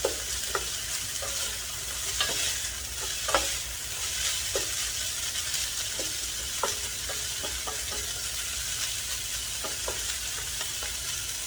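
Yellow bean sprouts stir-frying in a pan, a steady sizzle with scattered clicks and scrapes of stirring throughout, close and fairly loud with no talking.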